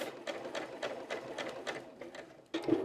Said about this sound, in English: today I'm using a Juki DX7 to sew because we need those fancy stitches